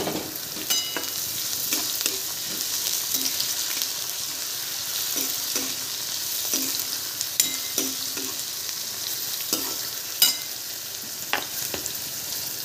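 Onion, garlic, ginger and cumin frying in a pan, a steady close sizzle punctuated by repeated spoon taps and scrapes against the metal as it is stirred, with no talking.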